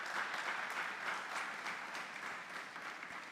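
A church congregation at a Sunday celebration service claps for the Lord, a faint, steady wash of many hands that fades slightly toward the end.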